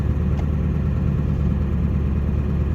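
A 7.3 Powerstroke diesel truck engine runs steadily at close range as the truck is driven around the block after a high idle, giving a continuous low rumble with no speech.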